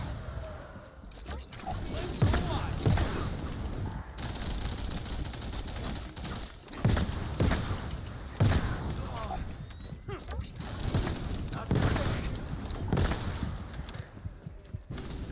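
Repeated explosions and gunfire in the video game The First Descendant, sharp blasts scattered across a busy battle mix under a player's ongoing talk.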